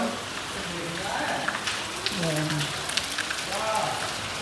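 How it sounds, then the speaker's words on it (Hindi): Steady rain falls right after a hailstorm over farm fields, a continuous soft patter with scattered sharper drop hits, while people talk quietly over it. "अब तो शांत हो गए ओले, तो बारिश में तब्दील हो गए।"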